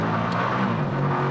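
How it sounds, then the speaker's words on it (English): A Koenigsegg Agera RST, a Tesla Model S Plaid and a Suzuki Hayabusa accelerate hard from 50 mph in a half-mile rolling drag race, a brief steady roar of engine and whirring drive noise close by. "Now we're going to have a rolling race from 50 miles an hour in second gear."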